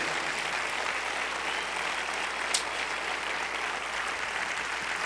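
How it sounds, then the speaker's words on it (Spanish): A church congregation applauds in a steady, even wash of clapping, fairly faint and heard from a distance, without voices. "Dele bien fuerte ese aplauso al Señor"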